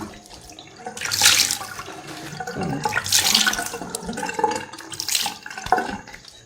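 Tap water runs and splashes in a sink during a face wash, swelling in several loud bursts of splashing over a steady flow, with no talking.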